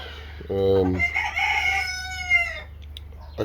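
Show chickens, Buff Orpington and Pekin or Cochin bantams, with a rooster crowing a full drawn-out cock-a-doodle-doo close by, followed by a few short clucks.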